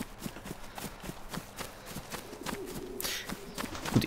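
Pigeons in the video game DayZ flutter with a rapid series of soft, quiet wing-flap pulses, fairly even in rhythm, rising to a slightly louder burst near the end.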